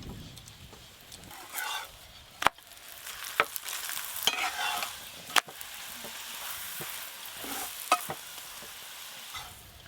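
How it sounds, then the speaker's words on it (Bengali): Methi paratha, a fenugreek-leaf flatbread, frying in white oil in a pan, giving a steady soft sizzle broken by several sharp clinks and scrapes of a utensil against the pan, close up with no talking. "আজকে আমি সাদা তেলেই ভাজছি।"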